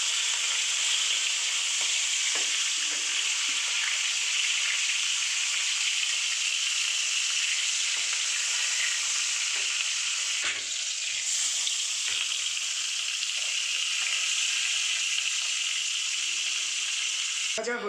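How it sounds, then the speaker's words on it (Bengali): Dried red chillies, nigella seeds and green chillies fry in hot oil, giving a steady, close, bright sizzle that runs unbroken throughout with a few faint stirring knocks. "হালকা ভেজে নেব।"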